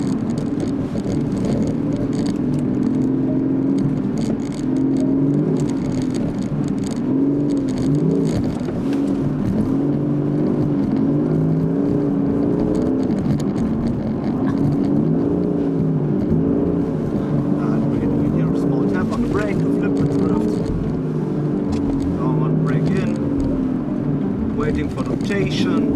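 Porsche Cayenne Electric sliding through slow, small drifts on a snowy handling track, with a steady, close cabin drone of tire rumble and rising and falling motor whine that runs without pause.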